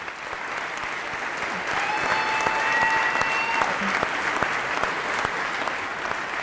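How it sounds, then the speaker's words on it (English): A live podcast audience applauds as a guest walks on stage, steady moderate clapping with a few whistles and sharp individual claps that swells slightly midway. "keep clapping"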